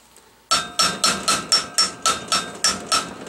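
Steady hammer blows drive a new wheel seal into a trailer wheel hub, about ten sharp metallic strikes in an even rhythm, loud and close with no talking.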